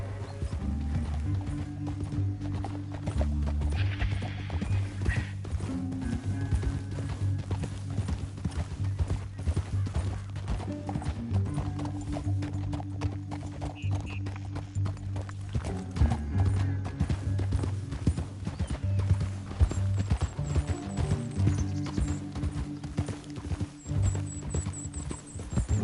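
Horses galloping in a Western video game, with steady close clip-clop hoofbeats and occasional whinnies running continuously beneath background game sounds and music-like tones.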